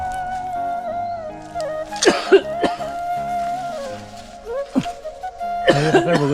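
Someone coughs outdoors in an areca nut orchard in the hills of Konkan: a few sharp, separate coughs and throat-clearing bursts over a steady tonal background.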